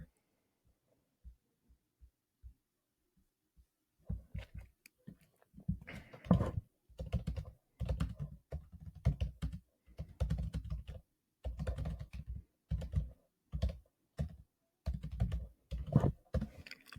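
Fingers type on a computer keyboard up close in irregular bursts of clicks and clacks, sparse at first and then quicker, with short pauses between runs.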